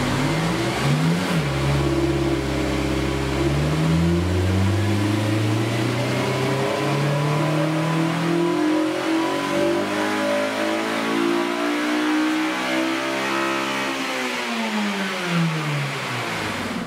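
A car engine revs hard and steadily on a dynamometer for the full run, rising through the gears then winding down near the end, loud and close with no talking.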